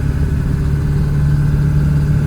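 A 2002 7.3 diesel truck engine with a stage 2 turbo and S&B intake, held at about half throttle, producing a loud, steady, deep rumbling drone recorded up close with no talking.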